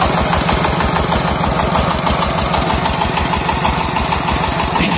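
New Dongfeng 16 HP engine driving a new water pump over a bored well, running steadily with a loud, close, even chugging throb and no talk.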